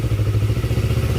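A Honda CB150R engine is revved close by during a charging-system check, giving a loud, throbbing, pulsing exhaust note that rises slightly over a short burst, with no voices.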